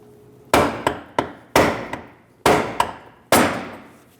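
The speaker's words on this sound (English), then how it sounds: "use a brass punch and remove our fuel lock ring" A brass punch struck by a hammer against the fuel pump lock ring of a 2016-2025 Chevrolet Malibu 1.5L, five sharp metallic blows with lighter taps between them, close and loud with ringing decay.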